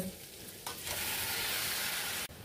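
Prawns drop into a pan of spiced, oil-fried masala with taro, bursting into a loud, continuous sizzle that holds steady before cutting off abruptly.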